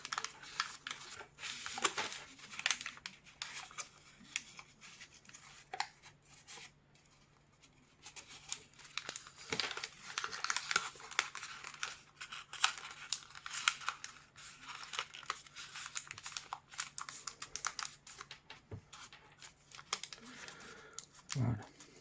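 Paper is folded into a Robert Lang origami cuttlefish, with inside reverse folds being worked. Close, intermittent crinkles, rustles and crisp creasing snaps come in uneven bursts, with a voice now and then.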